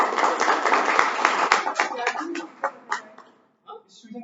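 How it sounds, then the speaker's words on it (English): Audience clapping at a Toastmasters club meeting, a burst of hand claps that thins out and fades to a few scattered claps before stopping, with some background voices mixed in. "Can we have a huge round of applause"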